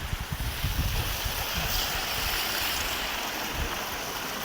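Water in a field irrigation channel spills and falls into a pit. It makes a continuous, fairly close rushing and splashing, with a few low thumps near the start, and no one is talking.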